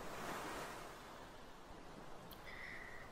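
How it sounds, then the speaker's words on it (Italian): Ocean waves wash gently onto a deserted beach in a soft, steady roar of surf with a light breeze, fairly faint and calm, with no voices heard. "Ascolta il rilassante suono dell'oceano. Le sue onde si infrangono dolcemente sulla riva."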